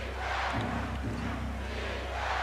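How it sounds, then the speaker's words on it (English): Arena crowd at an NBA game between the New Jersey Nets and New York Knicks chanting defense, a dense, loud, continuous roar with rhythmic swells, steady throughout. "Chant of defense."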